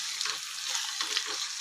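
Tomato and fenugreek curry frying in oil, a steady hissing sizzle with a few soft stirring scrapes, close and without talk.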